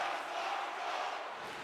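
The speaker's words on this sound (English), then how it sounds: "You can feel the energy in this crowd." A hockey arena crowd during a tied Western Conference Final game between Milwaukee and Dallas sends up a steady, dense roar of many voices, broad and sustained without breaks.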